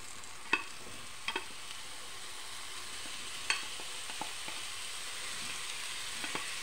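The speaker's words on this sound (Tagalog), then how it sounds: "I think I just slightly fry for 1 minute." Tuna pieces frying in a pan for a short sear, with a steady soft sizzle behind a few sharp clicks and taps of a utensil, close and fairly quiet, with no one talking.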